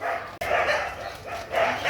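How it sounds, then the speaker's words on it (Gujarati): A dog barks in a short run of yelps and bow-wow barks, fairly close and loud, in a village setting with no talk over it. "એ તો આથી કૂતરો લઈને આવ્યો"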